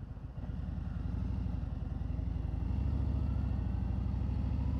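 A Harley-Davidson Road Glide motorcycle pulls away as the clutch engages, its V-twin engine thumping in a steady low rhythm that rises slightly in pitch and loudness, close up with no talk.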